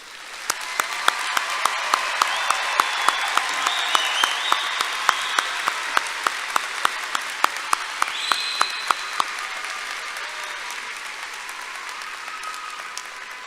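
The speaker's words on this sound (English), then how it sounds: "Let's give all these graduates another round of applause" Sustained audience applause for graduates at the Tennessee Tech University December 2021 commencement ceremony: a dense, steady wash of many hands clapping, filling the hall at even loudness throughout.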